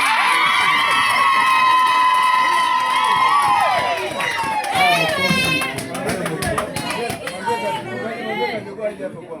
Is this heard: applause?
yes